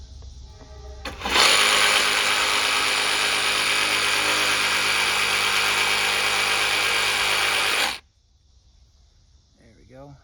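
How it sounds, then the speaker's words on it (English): A power saw cuts across a damaged skate ramp extension with a loud, steady, close buzzing whine that runs for several seconds and then stops abruptly. "So I'm gonna grab my saw blade right here. We're gonna kind of cut level like across there."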